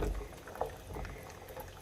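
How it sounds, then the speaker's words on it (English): Pasta cooking liquid, about six cups for a pound of pasta in a creamy pastalaya, bubbling at a steady rolling boil in a pot, heard faintly and continuously with no voices. "Okay, so this is definitely boiling."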